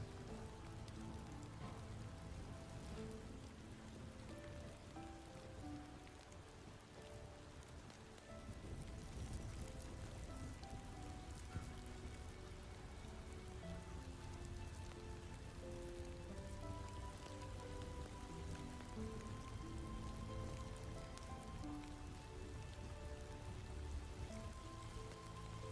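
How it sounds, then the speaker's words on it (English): Gentle rain pattering steadily on surfaces, a soft continuous wash of drops that swells slightly partway through and stays even throughout, with no voices. "The rain followed, whispering softly, telling stories not of endings,"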